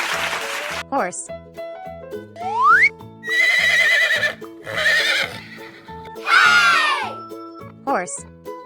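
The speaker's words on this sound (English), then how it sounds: "Horse." A horse neighs loudly from a children's animal toy, two long whinnies rising over a bouncy electronic tune, with clip-clop effects and cartoon boings around them.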